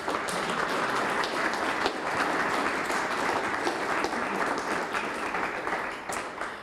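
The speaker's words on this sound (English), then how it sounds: "give a big round of applause to all the volunteers who make it happen" An audience at a film festival panel gives sustained applause for the volunteers, an even, moderately loud patter of many hands that thins out toward the close.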